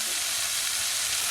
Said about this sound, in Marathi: जवला परतवून घेतला बघा.